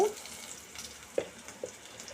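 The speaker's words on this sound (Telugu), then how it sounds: "కొంచెం కారం వేసుకొని ఇలా ఫ్రై చేసుకోవాలి." Flat beans frying in a pan with ginger and salt, a soft steady sizzle running throughout with a couple of brief sharp stirring clicks, heard close and alone.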